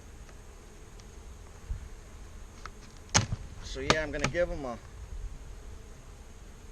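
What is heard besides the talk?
honey bees buzzing around an open hive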